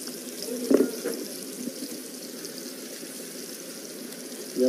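Tap water runs into a sink in a steady, moderate stream, with a brief clatter near the start and a louder gush at the end.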